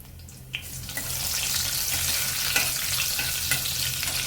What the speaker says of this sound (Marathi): आपलं तेल सुद्धा गरम झालेलं आहे. आता खडे मसाले घालून घेऊया. मसाले सुद्धा चांगले परतून घ्यायचे.